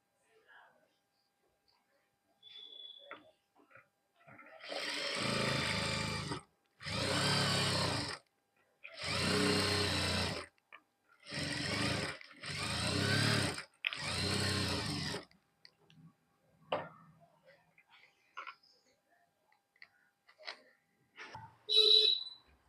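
A sewing machine stitches folded fabric in about six short, loud bursts close by, each run a few seconds long with brief pauses, followed by quiet handling noises.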